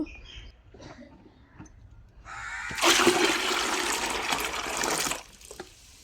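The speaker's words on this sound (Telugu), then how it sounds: "టిఫిన్ కోసం అయితే మినపప్పు అయితే కడుగుతున్నాను" Water gushes and splashes for a few seconds as urad dal lentils are rinsed, close and loud, with faint clinks before and after.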